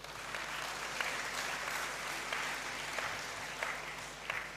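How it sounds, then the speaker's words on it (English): Graduates applaud at a congregation ceremony in a great hall, steady dense clapping from a large crowd filling the room throughout, with small swells and no talk over it. "I thought you would clap for yourselves."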